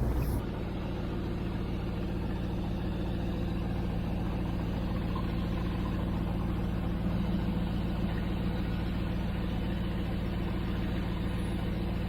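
Twin 1200 hp engines on a Donzi powerboat rumble steadily at a low, even idle, close and unbroken, with no voices over them.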